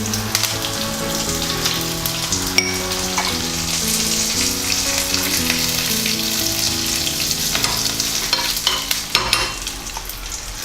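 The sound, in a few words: frying cumin, curry leaves and dried chillies in oil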